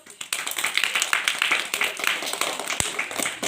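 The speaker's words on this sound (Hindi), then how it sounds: "ताली बजा दो।" Steady clapping from a group, dense and continuous for a few seconds, with one sharper tap standing out near the end.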